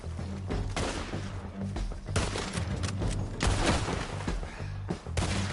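Dense, rapid gunfire from several guns during a Red Dead Redemption 2 shootout, bursts overlapping and sharp against a rumbling backdrop, loud and close throughout.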